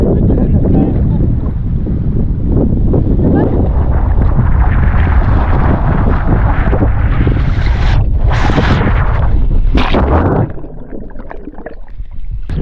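Wind and breaking waves at Ghadira Bay beach in Mellieha, Malta, make a loud, unbroken roar that buffets the microphone and eases slightly near the end.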